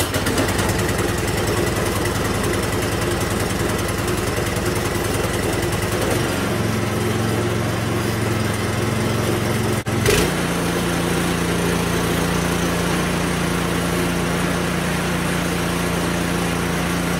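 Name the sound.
Predator 212cc engine running with quieter aftermarket muffler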